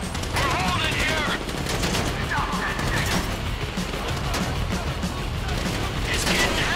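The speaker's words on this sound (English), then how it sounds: "So I guess we're shooting our way out of here." Gunfire in a Grand Theft Auto 5 shootout during the Paleto Score heist, with dense bursts of shots and crashes running steadily throughout, while voices call out over the fighting.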